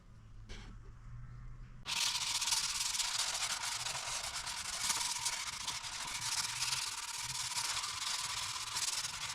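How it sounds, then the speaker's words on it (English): A sanding disc works over a painted panel on a Daihatsu Mira TR-XX turbo kei car, starting abruptly and continuing as a steady, close, hissing rasp with no voices. "So I've been prepping the awkward parts of the panel with nothing more than a sanding disc and some scotch."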